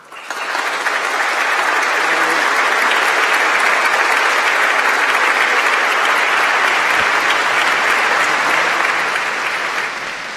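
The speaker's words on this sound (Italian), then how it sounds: "E sentiamo l'applauso," Sustained applause from a large congregation at a bishop's solemn installation in the Diocese of Rimini fills the space, rising quickly and holding dense and loud before easing slightly at the end.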